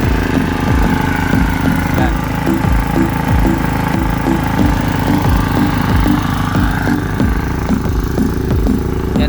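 A small engine-driven water pump running at a farm duck pond, a steady loud chugging idle with a regular pulsing rhythm, while someone speaks briefly over it.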